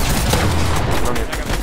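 Gunfire in the Fortnite video game during a competitive trios match: dense, rapid, overlapping shots that pack the whole moment loudly, with no clear gaps.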